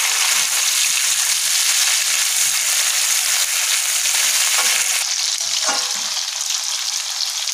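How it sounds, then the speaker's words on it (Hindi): Broccoli, cauliflower and potato fry over a high gas flame in a continuous loud, close sizzle that stays steady throughout, with occasional stirring scrapes. "ब्रोकली गोभी और आलू को हमने भून लिया है।"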